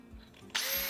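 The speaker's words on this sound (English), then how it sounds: "Then I'm able to drill all the way through the slot." A power drill bores through a shelf slot, starting abruptly after a quiet pause and whining steadily and close for a brief moment.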